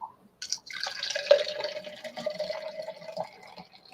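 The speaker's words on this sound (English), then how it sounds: "so they say pour it in straight." Beer poured from a can straight into a glass, a close, fizzy trickle with foaming gurgle running for a few seconds after a couple of faint clinks.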